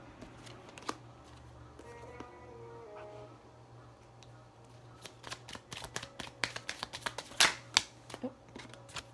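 Pure Love Oracle cards are shuffled and handled close by, giving soft papery riffles, then a quick run of crisp flicks and snaps. A faint steady hum sits underneath and a brief voice is heard early on.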